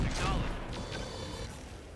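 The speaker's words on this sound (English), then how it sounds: "And I would like to fire on the helicopter." Weapons fire at a helicopter in the mech strategy video game RogueTech, a dense, loud burst of booming shots and crashing impacts that fades into a rumbling tail.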